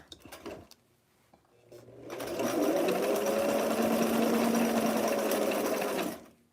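A sewing machine stitches a seam on a western-style blouse with a very small seam allowance, starting up after a brief pause and running as a loud, steady, close mechanical whir for about four seconds.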